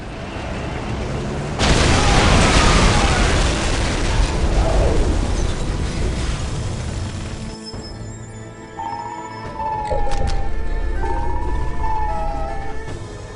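Orbital defense bombardment in the video game Dawn of War: Soulstorm lands as a loud, dense run of booming explosions with crackling debris. Shrill warbling alarm tones rise over the ongoing roar later on.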